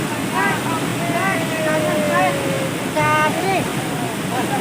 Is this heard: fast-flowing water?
yes